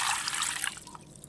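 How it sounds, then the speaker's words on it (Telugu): Water poured from close by over split bitter gourds in a cooking pot, a short splashing gush that tapers into a few drips. "కాకరకాయల్లో వాటర్ వేసి"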